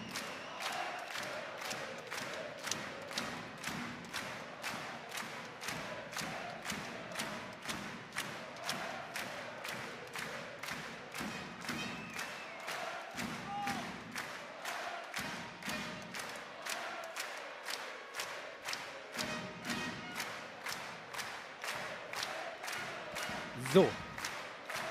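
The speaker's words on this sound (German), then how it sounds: "Was für ein Jubel." Crowd cheering and rhythmic clapping from fans at a German Bundesliga handball match, SC Magdeburg against SG Flensburg-Handewitt, a long run of regular, evenly spaced beats with chanting voices underneath, plus one louder thump near the end.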